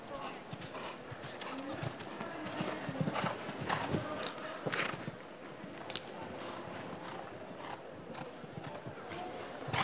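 Hooves clip-clop steadily across the arena as a horse works through a show jumping round at an international Nations' Cup event, with commentators talking over the rhythmic footfalls at moderate distance.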